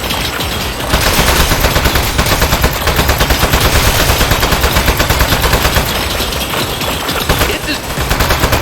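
Rapid automatic gunfire blazes loud and continuous in the game Aperture Desk Job as a switch is shot, a dense rattle of bursts over a busy, noisy backdrop.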